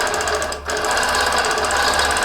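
Sewing machine quilting with invisible monofilament thread, a rapid steady mechanical chatter close up, briefly dipping near the start before running on evenly.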